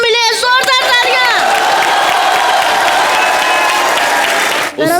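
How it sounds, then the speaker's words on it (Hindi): A studio audience at the Comedy Nights Live TV show breaks into loud, sustained applause with scattered cheers and whoops, continuing steadily for several seconds before cutting off near the end. "जोरदार तालियां"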